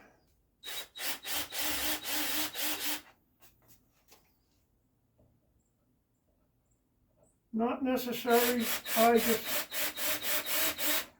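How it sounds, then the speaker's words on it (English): Bursts of rapid, gritty drilling of pilot holes into wood during a garage subpanel install, one short run then a pause, then a longer run; a voice speaks briefly in between. "So let me just drill these holes out here"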